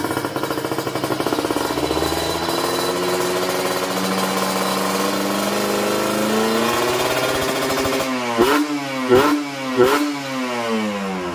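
A Kawasaki Ninja RR two-stroke motorcycle engine runs close and loud, its pitch climbing slowly under throttle before three sharp blips rise and fall quickly.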